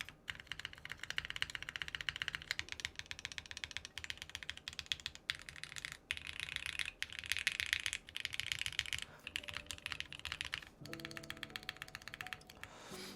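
Steady, rapid typing on a mechanical computer keyboard, close and clicky, with the enter key pressed now and then and a short pause before a brighter burst of keystrokes near the end.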